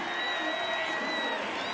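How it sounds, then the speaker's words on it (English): A lacrosse home crowd cheers after a goal, a steady wash of roaring and whooping with an announcer talking over it. "The crowd is back in it."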